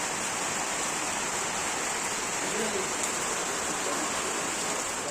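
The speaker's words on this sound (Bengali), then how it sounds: "আজকে সারাদিনই এরকমভাবেই বৃষ্টি পড়ছে" Steady rain falls all day, producing an even, unbroken hiss of moderate loudness with no distinct pauses.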